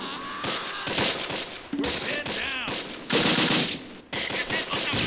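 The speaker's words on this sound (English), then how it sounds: "let's actually start firing from here as well" Rapid bursts of gunfire in the video game Close Combat during an ambush, loud repeated volleys and crackling shots with game effects, some firing overlapping at close range.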